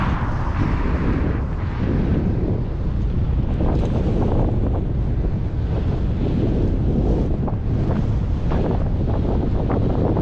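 Steady wind roars across the microphone outdoors in open Texas country, a continuous loud buffeting rush with no pauses.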